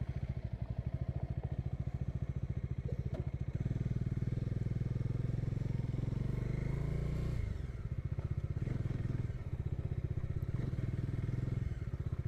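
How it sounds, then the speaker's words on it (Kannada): A motorcycle on a morning ride to Madugiri Hills drones steadily and loudly up close, its engine pulsing continuously with slight changes in pitch and load as it cruises. "ಇದು ಹಿಂಗೆ ಹೋಗ್ತಾ ಇತ್ತು ಗಾಡಿ. ಇಷ್ಟು ಸ್ಮೂತಾಗಿ"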